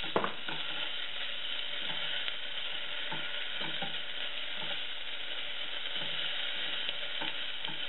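Garlic, ginger and spices fry in a pan for paneer butter masala, a continuous close sizzle broken by repeated rhythmic scraping clicks of a stirring spoon, with no talking.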